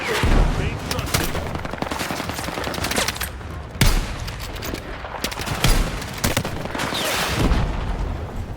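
Rapid gunfire and explosive RPG launches in a Battlefield 6 campaign firefight, dense bursts of shots with sharp booming impacts, loud and continuous, with faint radio chatter underneath.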